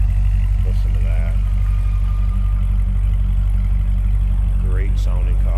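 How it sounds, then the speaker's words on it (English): A 7-liter, 505-horsepower V8 car engine idles with a deep, steady, loud rumble throughout, while faint voices murmur over it. "Great sounding car again. 7-liter, 505 horse V8 underneath the hood."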